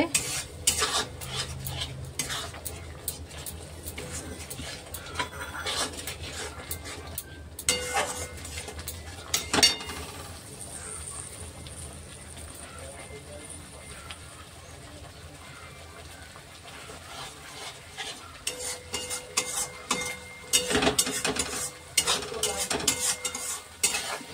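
A spoon stirs and scrapes a cashew and poppy seed paste being sautéed in a pan, with a soft sizzle beneath repeated clinks and scrapes, louder at the start and end. Low voices murmur briefly in the background.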